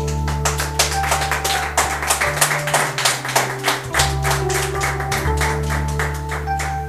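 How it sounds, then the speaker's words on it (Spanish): A church congregation clapping loudly and steadily in rhythm, dense continuous claps over sustained organ or keyboard tones from the worship band. "Dale un fuerte aplauso, iglesia."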